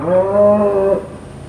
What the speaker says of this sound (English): we've got 4 mama cows with babies that's coming in.